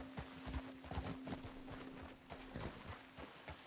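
Horse hooves clip-clop in Red Dead Redemption 2, a quick uneven run of close hoof strikes with a short whinny-like tone layered under the steps.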